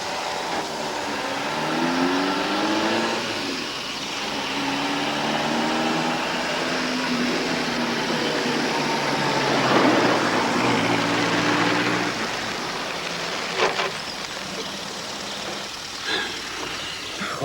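A car on the move, its engine noise building and easing as it picks up speed, with a steady broadband rush of road and wind noise throughout and a few brief knocks near the end.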